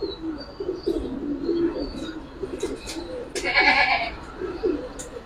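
Pigeons coo in soft, repeated low bursts among a collection of pigeons kept for sale, with a brief sharper chirp partway through and faint background murmuring.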